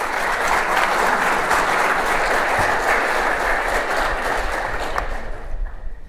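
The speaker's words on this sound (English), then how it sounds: "a round of applause I think would be very greatly received to Don" Steady, dense applause from a conference audience honoring engineer Don Penn, loud and sustained for several seconds before tapering slightly at the end.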